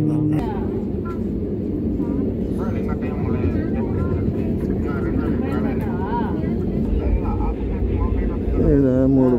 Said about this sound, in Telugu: జెట్ ఫ్లైట్ ఏదో చిన్నది